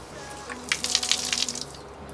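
Water splashes and spatters onto a rubber all-weather floor mat for a Tesla Model 3, a short burst of pouring close by that stops after about a second.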